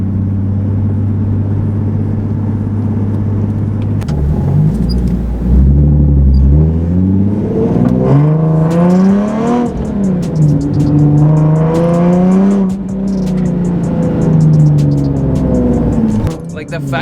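Close, loud engine noise inside a car on the move, climbing and falling in pitch through repeated revs and gear changes, with someone talking over it.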